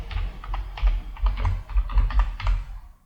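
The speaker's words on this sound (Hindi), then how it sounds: "यहाँ पे शिफ्ट के साथ कॉलन बटन प्रेस करेंगे, कॉलन लग जाएगा।" Fast typing on a computer keyboard while writing HTML and CSS code, a steady patter of close key clicks with soft thumps beneath, no voices.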